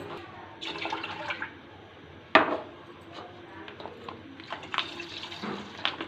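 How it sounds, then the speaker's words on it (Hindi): Water is poured from a cup into thick tinned milk in a kitchen pot, producing a soft splashing pour and trickle with a sharp clink midway, close by and moderately loud, with no talking. "इसके अंदर मैं 1 कप पानी का डालूंगी।"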